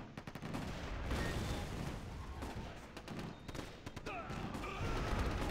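Artillery battery fire in the Axis & Allies (2004) strategy game, a dense stream of overlapping booms and rapid gunshot cracks forming a steady, loud barrage with no pauses.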